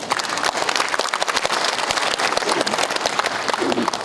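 Warm applause from an audience at a Korean ethics and morality ceremony, dense steady clapping filling the hall for several seconds without talk as a speaker is welcomed.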